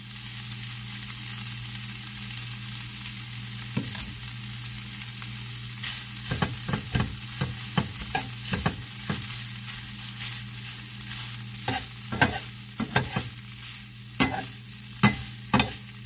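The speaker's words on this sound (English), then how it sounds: "we're just going to let this meat cook for about 3 minutes" Steak fajita meat frying in a pan over a medium-low flame, a steady sizzle throughout with repeated scraping and stirring clatters that grow busier in the second half, close and alone without talk.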